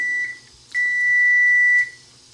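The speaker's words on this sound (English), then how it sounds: "Our timer is up." A kitchen timer beeps while green beans are pressure canned: a short high tone, a brief pause, then a long sustained beep of about a second, loud and close, with faint background hum and no talk.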